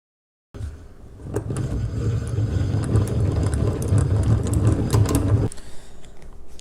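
A yarn winder spins hand-dyed lace yarn onto a ball with a steady whirring mechanical hum. The sound starts suddenly after a short silence, runs for about five seconds, then drops to a faint background.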